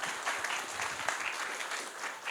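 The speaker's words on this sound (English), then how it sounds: "please welcome him with an applause" Audience applause welcoming a speaker at a conference talk, a dense, even patter of many hands clapping throughout at moderate volume.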